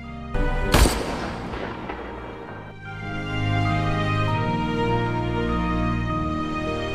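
A single sharp gunshot cracks out in a film chase scene, followed by a decaying boom and then a sustained swelling musical score underneath, with no speech.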